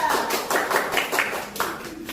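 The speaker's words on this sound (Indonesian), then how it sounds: "Tepuk tangan dulu untuk kelompok 2." Classroom students clap for a presenting group in a short burst of close, rhythmic claps with distinct repeated strikes rather than a smooth roar.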